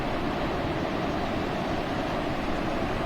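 Ocean surf washing onto Versova beach at night, a steady, dense roar of breaking water that fills the whole stretch without pause and without voices.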